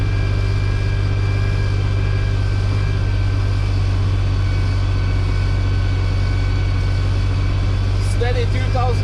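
A Valmet 505 tractor engine pulls steadily at 2000 RPM under load, a loud, constant low drone with harmonic hum filling the whole stretch, brief rattles near the end.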